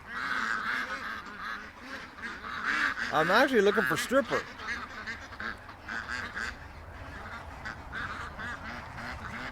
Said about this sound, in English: there's a couple young ducks mixed in